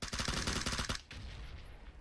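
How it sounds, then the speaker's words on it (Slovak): Rapid automatic gunfire from the battle-royale game PUBG on the Karakin map, a dense burst of close shots lasting about a second, then fading into a lingering echo and low ambient rumble. "Ale ako to oni takto môžu rýchlo strieľať"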